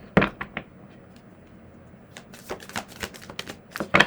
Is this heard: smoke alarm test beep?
no